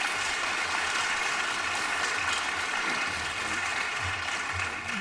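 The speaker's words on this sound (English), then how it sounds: "let's give first a big round of applause for South Los Angeles" A room full of people gives a sustained round of applause for South Los Angeles at an education event, the clapping forming an even, continuous wash throughout.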